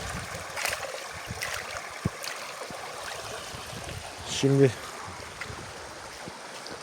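A forest stream flows steadily with a soft, continuous rush of water, heard outdoors with a short burst of speech partway through.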